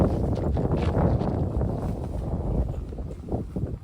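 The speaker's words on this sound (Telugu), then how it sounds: "గాలి అసలు నన్నే కొంచెం వెళ్ళిపోతుంది" Strong wind blows outdoors at a tent house, buffeting the microphone with a heavy, continuous low rumble and roar that surges and eases slightly over several seconds, with no voices.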